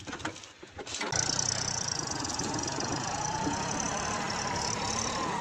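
A tractor's steady, rumbling engine runs continuously at close range in four-wheel drive after a brief quieter start, droning without pause.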